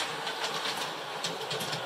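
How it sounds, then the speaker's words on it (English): A model train circles a bedroom office on track mounted around the ceiling, a steady rolling rumble with light rhythmic clicking of wheels, continuous and moderately loud, with no voices. "We've got the train traveling around the world."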